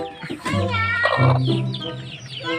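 A hen clucks up close in a run of rising, throaty calls, with faint speech in the background.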